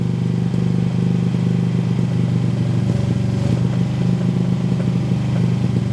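An old car engine running on a cold start in below-zero temperatures, with a loud, continuous mid-pitched drone and rough clattering hum that holds steady without clear revs.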